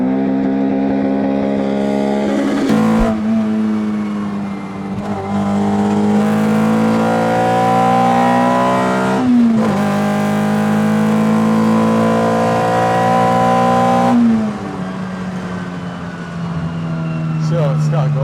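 A Toyota MR2 Spyder with a Beams engine swap idles and then revs repeatedly, loud and close, the engine pitch rising and falling in several bursts while people talk over it.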